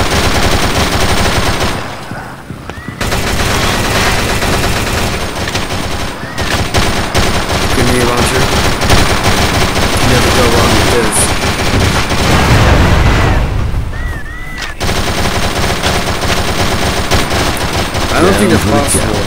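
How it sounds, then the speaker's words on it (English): AK-47 automatic gunfire in the zombie shooter Dead Trigger, long loud bursts of rapid shots nearly continuous with short gaps, layered with game effects and someone talking. "We have the AK-47."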